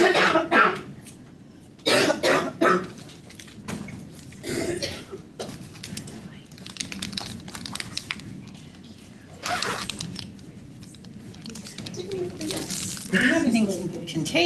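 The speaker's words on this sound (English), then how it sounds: "I gotta get my cough out" A person coughs several times in a meeting room, with loud bursts near the start and again midway, while other people talk quietly in the background.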